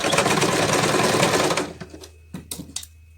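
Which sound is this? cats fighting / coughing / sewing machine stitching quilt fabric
sewing machine stitching quilt fabric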